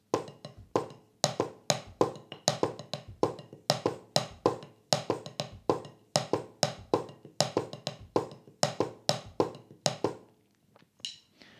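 A drum kit plays a songo groove, with clave-side accents on beat two and the and of four and tumbao-style bass drum notes, as a dense stream of crisp, busy hits in a steady, syncopated pattern that thins out near the end.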